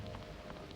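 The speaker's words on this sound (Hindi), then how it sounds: "अरे बारिश तो बहुत होने लगी।" A steady, dense rain shower from a film scene hisses evenly throughout, a soft continuous wash of falling water with no voices.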